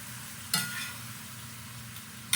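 A pan of pasta with butternut squash and Italian sausage stirred over the heat: a soft, steady sizzle with two brief scraping stirs, quiet and close, and no talking.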